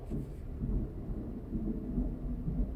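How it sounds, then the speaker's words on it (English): Low rumbling thunder rolls steadily through a spring storm in Texas, a fairly distant, continuous roar with faint rain in the background and no talking. "did y'all hear that? We get some weird storms sometimes here in Texas right around this time."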